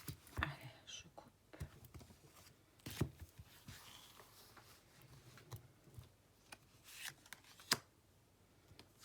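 Fortune-telling cards being cut and handled at close range, giving soft, scattered papery taps and shuffles at a faint level with brief pauses between them.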